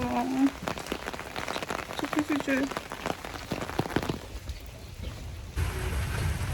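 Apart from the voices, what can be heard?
heavy rain falling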